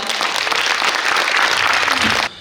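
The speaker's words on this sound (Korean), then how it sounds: "박수와 함께 모셔보도록 하겠습니다." Brief, dense applause rises from an audience at a regional youth employment policy forum, a loud crowd clapping that holds steady for two seconds before cutting off abruptly.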